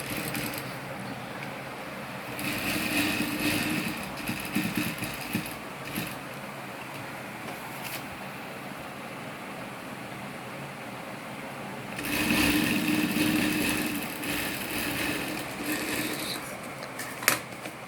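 A sewing machine stitches around a designer blouse piece in two runs of steady, close whirring, separated by a quieter pause with light handling sounds. No one talks.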